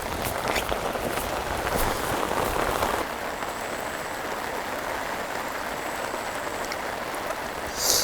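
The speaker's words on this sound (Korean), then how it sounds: "비 많이 오네" Heavy rain pours steadily beside a river during eel fishing, a dense continuous hiss of drops drumming on surfaces, close and unbroken with no voice.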